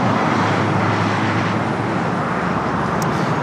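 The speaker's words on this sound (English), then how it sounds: "Flight heading to Newark, flight 1855 is 787 at 9 Dreamliner" A Boeing 787-9 Dreamliner jet airliner bound for Newark at Los Angeles airport gives off a steady, broad engine roar at moderate distance, holding constant throughout with no voices over it.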